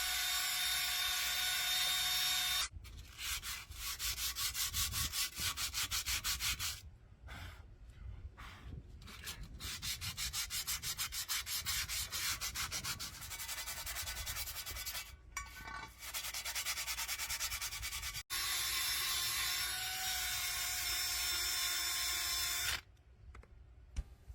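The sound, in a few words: wire wheel on power drill removing rust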